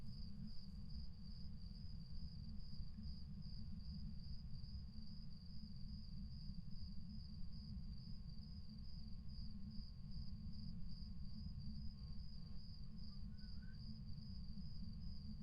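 Thin, steady electronic buzz from a D.O.T.S. projector in the Phasmophobia ghost-hunting game, a continuous faint drone with a pulsing high whine over a low hum.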